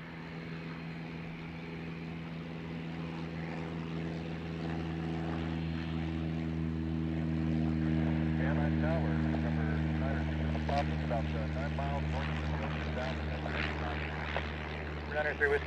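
A Cessna propeller plane drones steadily near Van Nuys Airport in California, its engine hum rising slightly as it passes, while air traffic control radio chatter plays over it.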